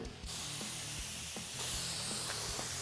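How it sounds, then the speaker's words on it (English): Steady hiss of a spray bottle misting water across a mural, continuous and close, with faint rhythmic clicks of the trigger underneath. "grab your spray bottle and spray across the mural"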